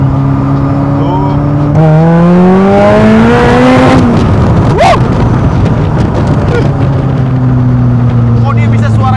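Caterham sports car with a racing-spec engine revving hard close by, the pitch climbing to a scream, then dropping with a raspy edge at the end of each rev, loud and continuous, with people talking over it.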